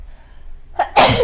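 A single sharp sneeze bursts out after a brief breathy intake, loud and close, during a tabletop board game session.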